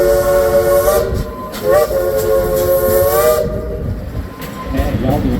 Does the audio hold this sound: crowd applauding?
no